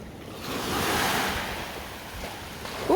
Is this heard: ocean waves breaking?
yes